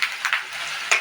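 Onions fry in a pan until brown for mutton curry, a soft continuous sizzle with a few quick scraping stirs, close and without speech.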